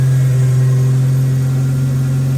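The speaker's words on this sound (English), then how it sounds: "You got a small vacuum leak I can hear." A steady, loud Jeep Wrangler TJ engine idle with a low droning hum and a faint continuous hiss from a small vacuum leak over it, no talking.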